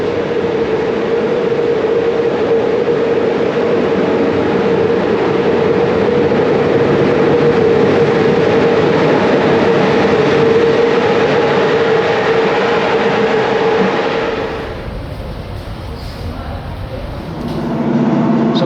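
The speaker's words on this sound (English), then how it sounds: "Hey, it's some length of a train." A loud, steady passenger train rumble with a droning hum rolls on for a long stretch, then briefly softens before rising again, heard close up at a station in Bucharest.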